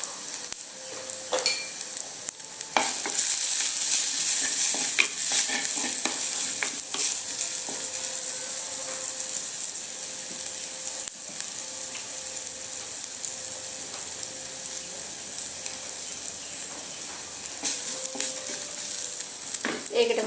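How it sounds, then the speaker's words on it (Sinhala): Chili powder sizzling in hot oil in a pan for a Sri Lankan mango curry, a steady hiss with occasional spoon scrapes and light clinks, close and fairly even throughout. "දැන් මම මේකට මිරිස් කුඩු හැන්දක් එකතු කරගන්නවා තෙලටම."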